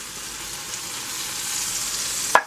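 Green beans and tomatoes fry in a pan with excess juice, giving a steady, fairly loud sizzling hiss that ends with a single sharp clank.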